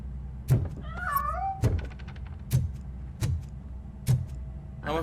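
A cat meows in RoboCop: Rogue City, several short rising calls with a clear tonal cry near the start, set among repeated dull thumps and background game ambience.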